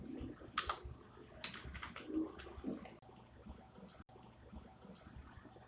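Keys on a computer keyboard are tapped in short, quiet bursts of irregular clicks, faint and close, separated by brief pauses, with no voice heard.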